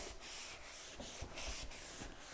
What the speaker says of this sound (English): just rub in the chalk like this